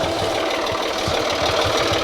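A tractor engine idles steadily throughout, a continuous mid-pitched rumble with a faint rhythmic knock, close by and with no talking over it.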